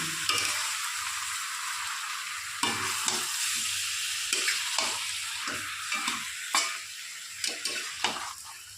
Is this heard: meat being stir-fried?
yes